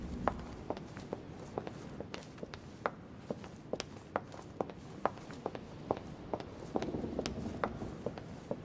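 Footsteps walk steadily through a quiet interior in the video game The Council, each step a crisp, close tap in a regular rhythm over a low ambient hum, with no talking.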